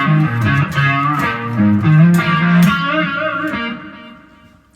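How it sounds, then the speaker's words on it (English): Electric guitar through a Blue Note pedal set for light distortion, a mildly driven melodic line with sustained notes, played alone and fading out at the end. "so that's more of like a light distortion"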